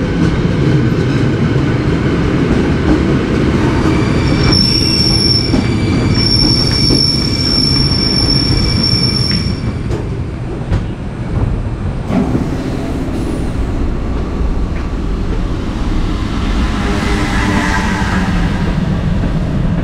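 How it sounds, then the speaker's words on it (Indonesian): An Indonesian KRL commuter train rolls in at a station platform with a loud, steady rumble, wheels squealing sharply in high tones as it slows along the platform. "KRL-nya masuk di jalur 6."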